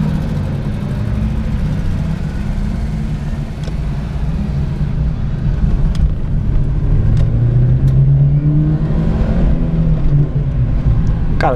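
The small 1.0-litre engine of a Chevrolet Celta idles loudly up close, its drone rising and falling as it is revved a few times.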